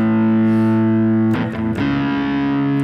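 A sustained, heavily distorted electric guitar chord rings steadily, with a brief choppy break of scraping noise in the middle before the drone resumes.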